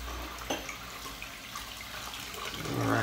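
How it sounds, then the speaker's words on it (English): Tap water runs into a bathroom sink during a wet shave, a steady close splashing rush with a brief knock near the start and a brighter, louder gush building at the end. "gotta put some water in my sink for a second here"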